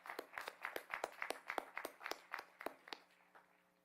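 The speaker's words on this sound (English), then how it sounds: "Give them a round of applause." Applause at an outdoor stadium commencement ceremony, a brisk run of sharp, evenly spaced claps that sound like a few hands nearby, fading out after about three seconds over a faint steady hum.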